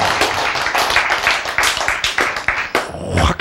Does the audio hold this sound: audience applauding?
yes